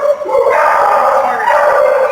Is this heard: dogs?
yes